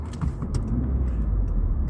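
Car rolling down a road in Scotland toward a dual carriageway, a steady low road rumble with faint rattles and no talk.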